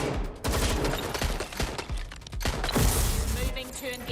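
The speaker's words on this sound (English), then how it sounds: "Suspect has opened fire. Damn it. Where's my back? They're shooting at us." Rapid bursts of gunfire in the video game Watch Dogs: Legion crackle loudly over several seconds, with game character voices calling out over the shots.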